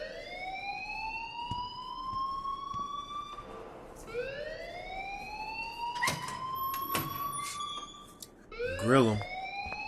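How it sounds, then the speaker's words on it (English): A fire alarm sounds in the video game Life Is Strange, a loud rising electronic wail repeating in long sweeps with sharp beeps and a warbling burst near the end, while a voice speaks briefly. "please turn off that alarm since that's your job."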